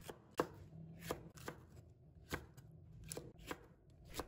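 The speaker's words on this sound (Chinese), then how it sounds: "改刀切成菱形片" A kitchen knife chopping seeded green and red peppers into diamond-shaped slices on a cutting board, with about eight crisp, evenly spaced chops close by and quiet between strikes.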